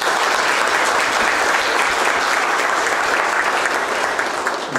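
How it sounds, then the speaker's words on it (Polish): Sustained, dense applause from a large crowd at a county scholarship gala in Olsztyn, honouring county councillors; steady and loud throughout with no pause. "Oklaski dla radnych powiatowych."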